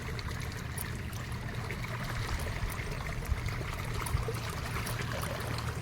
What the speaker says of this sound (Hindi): देखो पानी भी केते जोर से आसुसी